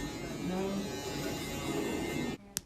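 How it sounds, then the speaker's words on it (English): An Andis electric shaver buzzes steadily up close while shaving hair down for a high taper fade, then cuts off abruptly near the end, followed by one sharp click. "I grab my Andis shaver and I'm gonna shave everything completely"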